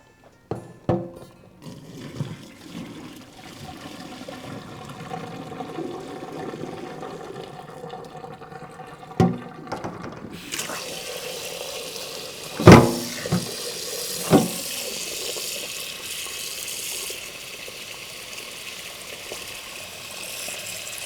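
Cold tap water pours into a pot of freshly boiled eggs, a steady broadband rush that swells sharply midway as the flow hits, with a few clunks of the pot and no voices.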